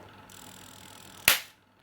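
A homemade AC electric fish stunner of about 1 ampere lets out one sharp, loud crackling pop that decays quickly, after a faint steady electrical hum.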